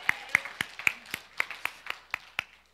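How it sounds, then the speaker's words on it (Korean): A church congregation claps in a steady, even rhythm, about ten sharp claps spaced close together at moderate loudness, with no voices over them. "우리 주님께 영광의 박수 한번 올려드리겠습니다."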